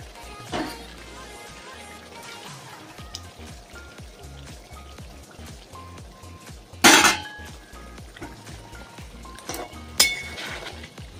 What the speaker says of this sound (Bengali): দেখো মাছটা ফুটছে, এবার মিনিট 5 ফুটতে দেবো, তারপরে নামিয়ে ফেলবো।